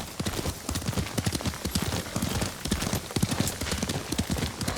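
Horse hooves clip-clop steadily while riding in the samurai game Ghost of Tsushima, a close, rhythmic trot of repeated thuds that carries on throughout without pause.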